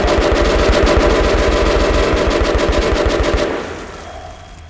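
Sustained loud machine-gun fire in Metro Last Light Redux, a steady rapid stream of close shots lasting several seconds before cutting off abruptly into quieter background noise.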